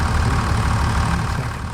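A tractor engine idles in the video game Farming Simulator 25, a loud, steady low rumble that runs unbroken through the short moment with no talk over it.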